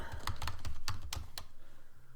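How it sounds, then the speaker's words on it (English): Fingers tap on a computer keyboard in a quick, uneven burst of close, crisp keystrokes, about a dozen clicks, thinning out toward the end. "What's going on with my keyboard here?"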